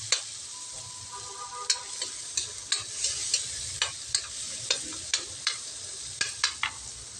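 Tomatoes sautéing in a pan for ginisang pechay with sardines, a steady sizzle cut by a dozen or so sharp, regular scrapes of a utensil stirring against the pan, close and without talk.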